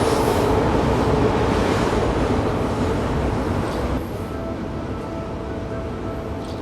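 A Rajdhani Express rolls through Assam toward India's longest rail-cum-road bridge: a loud, steady broadband rumble of wheels and carriages, close and continuous, easing slightly partway through, with no talk.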